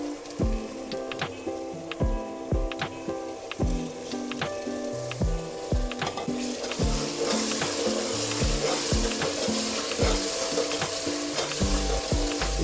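A paste of green chilli, mint and coriander fries in a pan with a loud, continuous sizzle, while a spoon knocks and scrapes against the metal in a steady, repeated rhythm.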